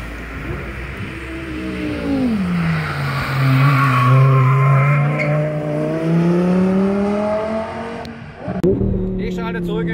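An Audi R8 Spider convertible tears around on a fast record-attempt lap, its engine note rising and falling loudly with tire squeal and skidding, and speech is heard in places over it.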